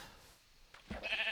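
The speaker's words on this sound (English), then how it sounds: "Sheep." A short bleat from a sheep in a video game sounds near the end, a single brief call rising out of quiet background ambience.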